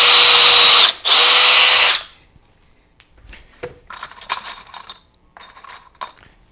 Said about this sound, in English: We'll drill a couple of pilot holes again.